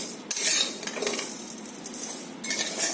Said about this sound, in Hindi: इसको हम भून ले रहे हैं